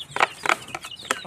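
Pet chickens cluck while being fed, giving a few short, close clucks spaced unevenly over a brief moment with no voices present.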